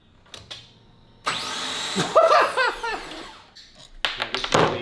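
Starter motor cranking an LS1 V8 swapped into a BMW E30 during a failed first start, a harsh whirring grind rising and warbling for a few seconds after brief clicks, with shorter bursts before and after.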